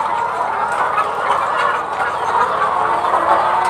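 Young laying hens on a poultry farm of about a thousand birds cluck and chatter continuously, a dense, steady flock din close by throughout with no talking.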